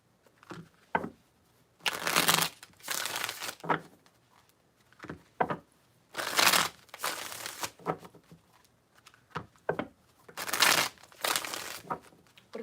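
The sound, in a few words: tarot cards being shuffled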